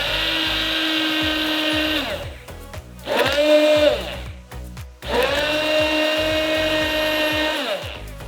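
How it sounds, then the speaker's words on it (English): A whirring immersion blender runs loudly in long bursts, its motor pitch dipping and rising as it mixes aquafaba and sunflower oil into egg-free mayonnaise, with short pauses in between. "Mix everything with an immersion blender."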